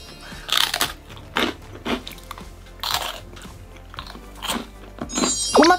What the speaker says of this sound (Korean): 요거를 뭐 바게트 빵이나 뭐 식빵 뭐 이런 거랑 같이 먹어보도록 하겠습니다